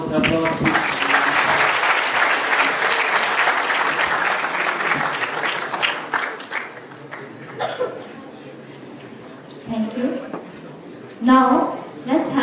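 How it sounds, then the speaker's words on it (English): Festival audience gives a big round of applause, loud sustained clapping that tapers off into scattered claps, chuckles and murmuring, with a voice speaking briefly near the end. "Big round of applause."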